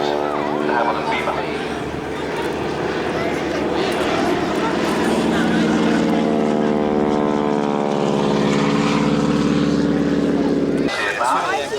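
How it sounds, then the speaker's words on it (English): A de Havilland Beaver propeller aircraft drones loudly past at an airshow, its steady radial-engine roar shifting in pitch as it passes overhead, with a commentator talking over the sound throughout. "now coming back with his de Havilland Beaver"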